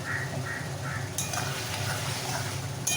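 Hilsa fish cooked with ash gourd in a pan, its liquid nearly dried off, sizzles and crackles continuously as a utensil stirs and scrapes, with a few brief metallic clinks, close and steady.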